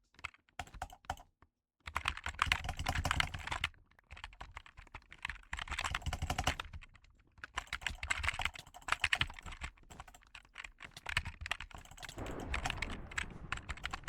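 Rapid clattering keystrokes on a computer keyboard in bursts separated by short pauses, close and crisp, with no talking.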